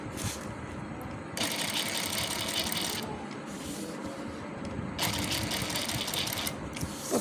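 Sewing machine stitching net fabric along a flower lace pattern for a dress, running in two steady bursts of rapid mechanical whirring and clatter with a softer pause between them, moderately loud and close, with no talking.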